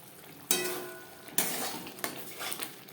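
Ground spices sizzle and fry in a pan over low to medium flame for a pomfret fish curry, with a few sharp bursts of stirring and scraping against the pan over a steady frying hiss, close and moderately loud.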